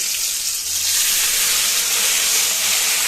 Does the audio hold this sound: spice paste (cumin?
yes